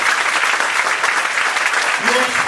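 Congregation applauding at a Spanish-language church sermon, a steady dense wash of clapping throughout with a voice rising briefly near the end.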